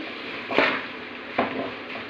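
Grated mango frying in a pan for mango rice, a soft sizzle with two brief scraping strokes of a spoon stirring it close by.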